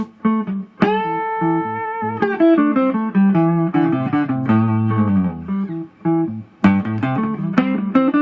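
Guitar notes run quickly up and down a scale in an even, unphrased stream, close and clear with a few short gaps, in a blues improvisation setting.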